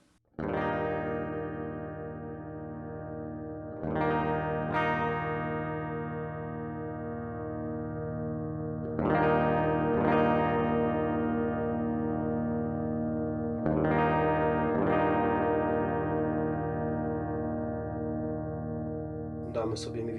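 Heavily saturated electric guitar chords through a Taurus Servo 3 enhancer pedal ring out one at a time, each strum left to sustain for several seconds before the next, with thick harmonics.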